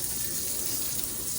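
Water runs steadily from a kitchen sink tap with weak pressure, a constant close hiss and splash without pause.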